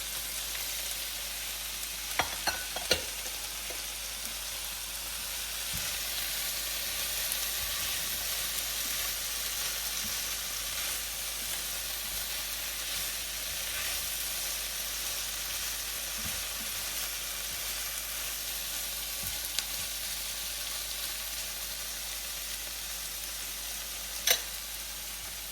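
Okra sizzles steadily in a pan, a close, even hissing fry with a few scattered scrapes and taps from stirring, continuous and unbroken.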